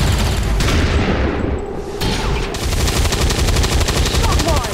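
Gunfire in the XCOM 2 video game, loud rapid volleys and bursts layered with booming impacts, continuous from start to finish.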